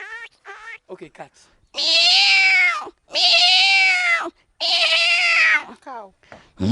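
A man imitates a cat with his voice, making three long, loud, wailing meows with short pauses between them. Shorter vocal sounds come before and after.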